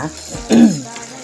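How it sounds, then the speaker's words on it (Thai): Minced pork is stir-fried in a hot pan, giving a brief burst of sizzling and a scrape of stirring in the middle of an otherwise quiet moment, heard up close. "จะรวนหมูนะคะทุกคนค่ะ"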